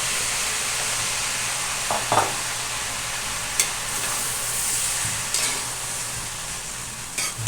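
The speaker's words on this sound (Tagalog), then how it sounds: "Haluin lang ng mabuti." A vegetable filling with a soy, peanut and sugar sauce fries in a pan under a steady close sizzle, with a few scattered scrapes and clicks of a stirring utensil.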